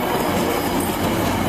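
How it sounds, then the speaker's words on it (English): A VRE Manassas Line commuter train passes close by, giving a steady, loud rumble of wheels on rails with a rhythmic clickety-clack and no voices. "And this is Manassas Line train 338 en route to Washington, D.C."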